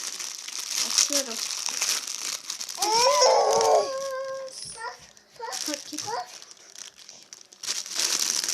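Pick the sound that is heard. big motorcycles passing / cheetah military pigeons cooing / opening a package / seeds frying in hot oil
opening a package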